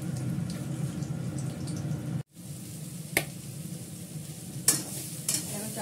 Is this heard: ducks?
no